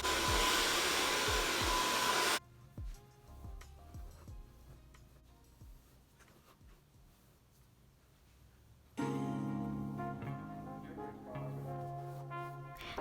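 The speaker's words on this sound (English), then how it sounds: "Collect the hair around your crown area and blow dry it closer to your roots and brush your hair." A hair dryer roars loudly at first while blow drying hair near the roots at the crown, then cuts off to quieter brushing and handling sounds before the blower starts up again at a lower, steady hum.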